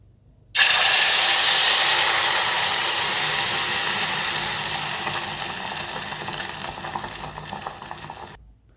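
A sudden loud sizzle as finely ground wet paste hits hot ghee for rice kheer, hissing strongly at first and slowly easing, with faint stirring scrapes and no voices.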